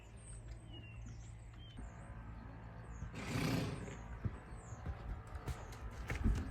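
Horse hooves clip-clop softly on the ground as the horse works, a few faint irregular steps under a low hum, with a brief louder burst of noise and birdsong in the background.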